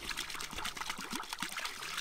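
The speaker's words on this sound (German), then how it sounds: "Ich würde mal ganz kurz was trinken" Water trickling and pouring in the driving game My Summer Car as a character drinks, a steady close liquid stream running alone for about two seconds.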